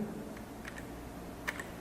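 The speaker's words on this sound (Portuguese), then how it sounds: "clique 2 vezes no ESC" Two light clicks of the ESC key on a computer keyboard while exiting a sketch line command in SOLIDWORKS CAD software, close and crisp over a quiet room hum.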